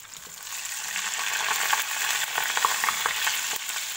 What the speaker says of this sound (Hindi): ये देखिए इस तरह से आपने इसको मीडियम फ्लेम पर फ्राई करना है